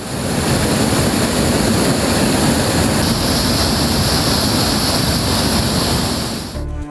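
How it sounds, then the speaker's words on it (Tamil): The rain-swollen Vaigai river in Theni rushes in flood, filling both banks with a loud, steady, unbroken roar of churning water that holds at one level throughout. "வைகை ஆற்றின் இரு கரைகளையும் தொட்டபடி தண்ணீர் கரை புரண்டு ஓடுகிறது."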